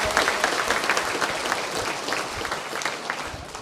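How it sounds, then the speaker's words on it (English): A large audience applauds Hall of Fame inductees at an Iowa Central awards evening in Fort Dodge, Iowa, with dense, steady clapping that holds at an even level throughout. "Let's give a big round of applause for our Hall of Fame inductees this evening to start"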